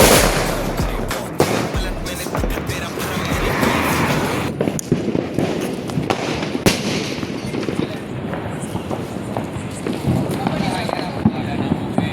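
Repeated sharp Diwali fireworks bangs and crackles in Gandhinagar over a noisy crowd with people talking and shouting, loud and close.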